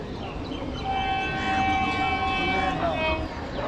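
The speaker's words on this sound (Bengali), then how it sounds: "ট্রেন আসছে হর্ন দিচ্ছে" Passenger train bound for Kolkata on the Plassey to Cossimbazar line, a sustained multi-tone horn blaring for a few seconds over the steady rumble of the approaching train, loud and fairly near.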